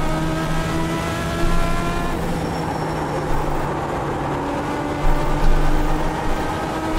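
A Legends '34 Coupe race car in iRacing at Lanier National Speedway revs up and accelerates with a steady, rising buzzy engine tone, with other cars droning nearby and no talk.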